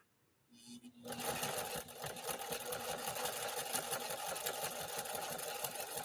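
A 1960 Pfaff 230 sewing machine starts after a short quiet moment and keeps running slowly and steadily with an even mechanical whir and tick, heard close and alone.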